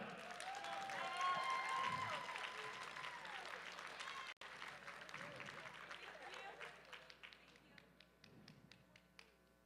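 Dense applause from an audience at a powerlifting meet's award ceremony, loudest in the first half and thinning toward the end, with a voice speaking over it.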